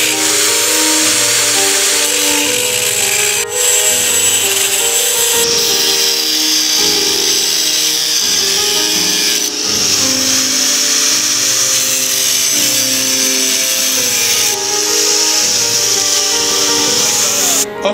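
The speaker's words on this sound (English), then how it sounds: "I'm gonna try my best to grind this shit" A power tool grinding a sledgehammer head during its modification, giving a loud, steady high-pitched whine with periodic shifts in pitch and load, heard alone for the whole stretch.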